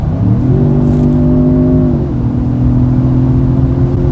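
A 2022 Jaguar F-Pace hybrid SUV revs up under hard acceleration in dynamic mode, its droning tone climbing in pitch then settling into a steady loud whir from inside the cabin.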